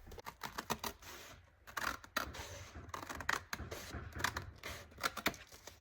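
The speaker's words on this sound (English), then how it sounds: "I'm going to go ahead and cut this one out as well." Scissors cutting out a paper napkin page reinforced for junk journaling, close and quiet, a run of short crisp snips and paper rustles spaced unevenly across the moment.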